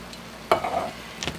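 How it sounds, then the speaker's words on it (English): Canned diced tomatoes go into a hot pan for stuffed bell peppers, giving a sudden wet splash and brief sizzle, then a short scrape of stirring; quick and close, without speech. "Now we're going to add 1 can of diced tomatoes."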